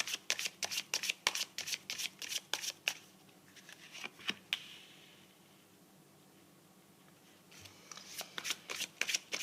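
Tarot cards are shuffled in quick, crisp riffling flutters, a dense run of snaps that pauses briefly in the middle and then resumes, close and fairly quiet.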